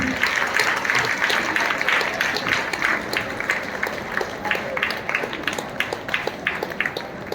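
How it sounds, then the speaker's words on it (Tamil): Steady applause from a congregation at a cathedral honouring ceremony, many hands clapping continuously at moderate loudness throughout, with faint voices beneath. "எல்லாரும் உற்சாகமா"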